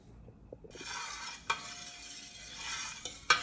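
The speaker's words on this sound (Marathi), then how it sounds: "मेथी टाकल्यावर थोडं एकसारखं हलवायचं म्हणजे मेथी एकाच साईडने शिकली जाणार नाही, म्हणजे सगळीकडून ती तळली जाईल" Fenugreek seeds fry in oil for a raw mango pickle while being stirred, making a soft, steady sizzle close by. Two sharp spoon-against-pan scrapes and clinks stand out above it, and no one speaks.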